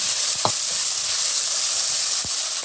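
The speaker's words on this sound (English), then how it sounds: "Using the same pan, we are gonna saute our onion." Onion sautes in a frying pan that was just used for ground beef, giving a steady, even hiss of sizzling with a couple of brief scraping stirs and no talking.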